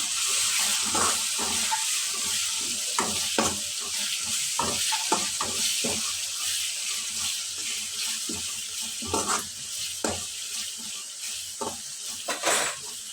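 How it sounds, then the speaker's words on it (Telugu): Ginger garlic paste fries in oil in a pan for a bitter gourd masala curry, a constant close sizzle broken by repeated scraping stirs, with no talking. "ఒక స్పూన్ అల్లం వెల్లుల్లి పేస్ట్ వేసుకోండి అల్లం వెల్లుల్లి పేస్ట్ పచ్చివాసన పోయేంత వరకు వేయించుకుందాము"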